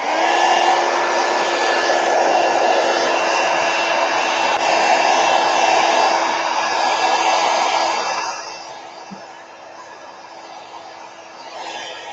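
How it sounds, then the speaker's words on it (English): A heat gun blows steadily to dry a watercolor painting, a loud continuous whooshing drone with a faint whine that drops to a lower level near the end. "I'm gonna hit this with a heat gun quick so I don't touch up against something that I don't intend to"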